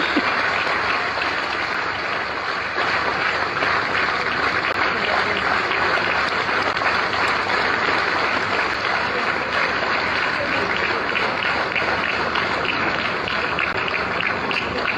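Sustained audience applause at a defence exhibition in Maharashtra, a dense, even roar of clapping from a large crowd that holds strongly for about fifteen seconds without pause.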